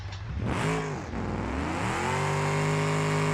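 An upgraded car engine in a racing video game revs hard, climbing in pitch after a brief dip, then holding a loud, steady high drone with no talk over it.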